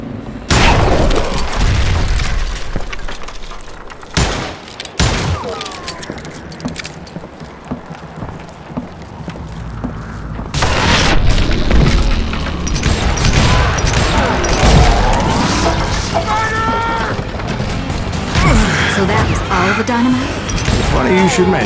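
Gunfire and explosions in the Western shooter Call of Juarez: Gunslinger, loud repeated shots and booming blasts layered over game music and effects, with a voice narrating over much of the action.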